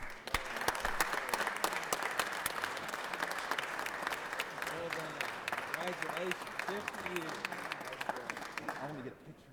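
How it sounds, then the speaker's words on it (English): Round of applause in the Georgia Senate chamber, sustained dense clapping for nearly ten seconds before tapering off, with some voices beneath it. "So join me in a round of applause for the Peacock family."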